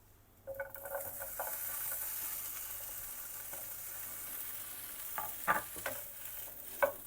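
Small pieces of sausage fry quietly beside eggs in one pan, a faint steady sizzle broken by a few light spatula taps and scrapes near the end.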